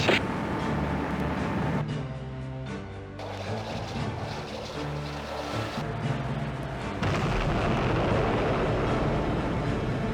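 Missiles launching and striking targets in the naval combat game Fleet Command: a continuous heavy roaring rumble with dense low-end blasts, shifting in intensity and growing louder near the end, with no talk.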